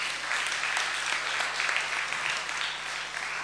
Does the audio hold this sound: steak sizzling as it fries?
no